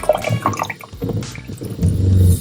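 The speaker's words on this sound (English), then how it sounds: "Here comes some more hot water." Hot water from an RV trailer water heater running out of a tap: close splashing and trickling, uneven at first, then a steadier flow near the end, with no speech.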